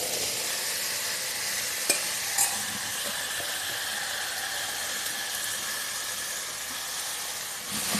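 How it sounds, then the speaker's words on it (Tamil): Cauliflower is tipped into a tomato masala for dosa filling, giving a faint, even sizzle and steamy hiss with a couple of quick spoon knocks early on and no voices. "இப்போ நம்ம காலிஃப்ளவரை போட்டுருவோம்."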